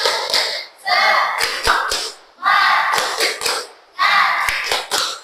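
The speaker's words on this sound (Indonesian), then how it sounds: "kita tepuk semangat dulu biar kita semakin semangat ya" Rhythmic clapping bursts from a school class chanting a 'tepuk semangat' clap chant, loud and close, with children's voices chanting between sets of claps in three repeated phrases.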